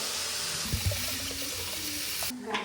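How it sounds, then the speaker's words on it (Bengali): Water is poured into a cooking pot of rice and vegetables in a home kitchen, a steady splashing pour running throughout at moderate level with a brief change near the end. "এবার দিয়ে দেবো জল।"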